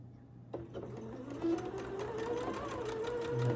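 A sewing machine stitches through a quilt block, its motor whirring up after a sharp start and running steadily close by for a few seconds, with no talk over it.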